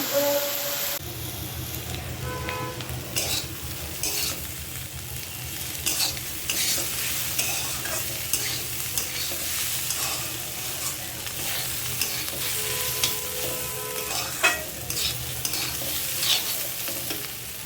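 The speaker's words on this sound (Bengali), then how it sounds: "করলা ভাজি আলু দিয়ে আস্তে আস্তে হচ্ছে এটা ভেজে নেই" Bitter gourd and potato with onion, turmeric and salt frying in a pan, a steady sizzle with scraping stirs throughout, close and moderately loud.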